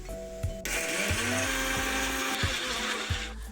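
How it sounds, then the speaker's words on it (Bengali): A kitchen mixer grinder whirs loud and close as it grinds masala paste with added water for a prawn ghee roast. It kicks in after a brief pause and runs steadily until it cuts off at the end. "তাই আর একটু জল দিয়ে এটাকে আরেকবার বেটে নেব"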